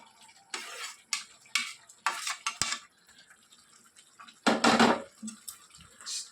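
Ladle scraping and clinking against a pan while okra curry with masala is gently stirred, in several separate bursts of scraping and knocking with quiet gaps between them.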